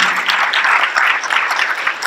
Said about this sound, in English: So an applause for these legends.